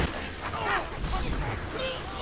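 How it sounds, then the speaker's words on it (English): Dense, rapid gunfire from the Baby Maker SMG in the video game Borderlands 2, mixed with extra explosions, a continuous noisy barrage with booming impacts and a voice speaking over it. "I forgot the baby maker has the extra explosions"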